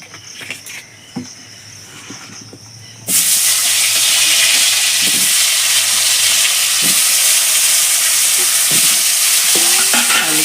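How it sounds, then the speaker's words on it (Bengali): After a few quiet seconds with light clinks, a loud continuous sizzle of potatoes frying in hot oil takes over, with occasional stirring sounds. "এবার আমি আলুটা ভেজে নেব"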